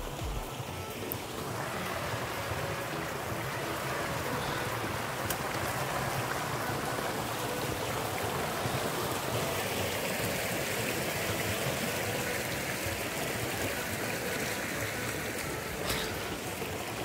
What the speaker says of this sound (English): So you have to cross this creek.